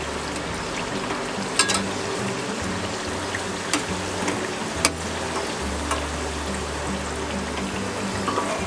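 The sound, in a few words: sweet kochuri with chhana frying in oil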